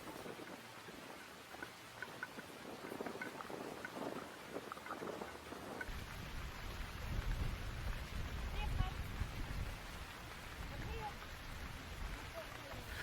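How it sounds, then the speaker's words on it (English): Heavy rain pours steadily on an open grouse moor in Farndale as the final drive ends, a constant wash of rainfall with wind buffeting, no break throughout. "The rain has still not let up"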